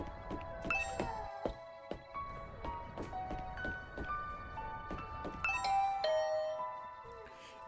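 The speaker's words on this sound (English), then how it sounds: "I rang the doorbell and could hear the bell ring on the other side of the door" A doorbell rings on the far side of a closed door, with repeated ding-dong chimes and bright tonal strikes over several seconds. It sounds close and fairly clear, with no talk over it.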